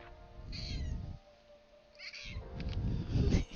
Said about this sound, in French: il fait miaou, miaou